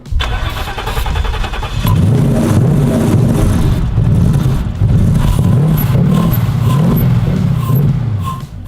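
A V8 engine swapped into a Volkswagen Beetle cranks and catches on starting fluid, then runs roughly with a loud, uneven, sputtering rhythm close by.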